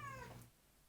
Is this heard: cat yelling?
yes